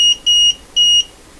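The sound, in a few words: multimeter beeping when voltage is over 40 volts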